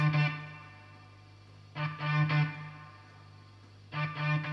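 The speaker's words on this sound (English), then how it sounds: "This is a brass track." Short bursts of brassy, processed-sounding horns play in two clusters over a steady low drone, loud and slightly distorted.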